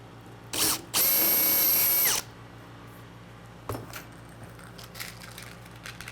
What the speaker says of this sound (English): And then the next one we're gonna drill